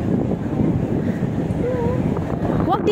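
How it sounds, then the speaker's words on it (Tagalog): Strong wind buffets the microphone outdoors near a bus, a loud continuous roar and rumble filling the clip while a voice speaks faintly in the background. "Sobrang hangin."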